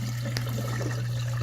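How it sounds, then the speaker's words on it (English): Water drains steadily from a dishwasher air gap down into a kitchen garbage disposal, a continuous close gurgling rush under a strong low hum. "That's the sound of water coming into the garbage disposal from the air gap."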